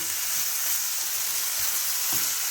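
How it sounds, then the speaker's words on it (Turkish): Morel mushrooms sauté in an uncovered pan, giving a steady, close, bright sizzle throughout. There are faint stirring scrapes underneath and no talk. "Bir miktar daha kavuralım."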